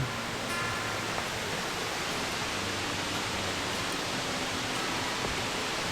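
A waterfall on a forest stream rushes as a steady, even hiss that holds unchanged from start to end, with no voices.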